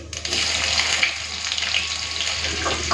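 Chopped onion and whole cumin hitting hot mustard oil in a pan, a steady close hiss of frying that runs on without pause.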